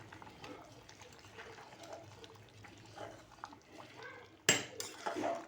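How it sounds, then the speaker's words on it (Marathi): Chicken pulao being stirred in a pot with the lid just taken off: a sudden clatter of utensil against metal, then scraping and soft clinks, following quiet cooking background. "आता आपण झाकण काढून घेऊया लवकर उकळी आली एकदा हलवून घेऊ"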